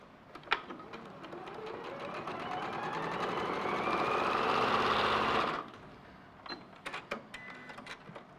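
A sewing machine stitches a quilt border strip to a corner piece with a 1/4-inch seam, a steady whirring run that builds in speed for several seconds and then stops abruptly, followed by a few light handling clicks.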